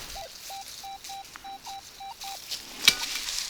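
A Rutus metal detector beeps in a string of short, evenly spaced steady tones while searching along a dirt road, followed by a brief sharp click near the end; faint outdoor background and no talking.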